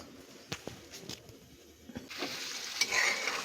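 Paneer and capsicum sizzle softly in a pan as a spatula taps and scrapes a few times, the frying hiss swelling louder toward the end, close and fairly quiet.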